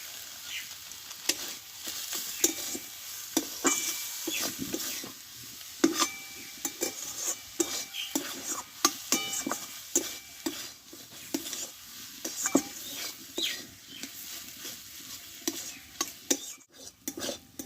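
Potato and cabbage paratha filling being stirred and sautéed in a hot pan, with steady sizzling and frying, repeated scraping stirs and occasional utensil clinks, close and continuous with no talk.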